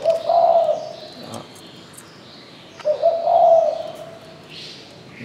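A caged spotted dove from Phu Yen coos clearly and close by, giving two separate rolling coo phrases with a quiet pause between them.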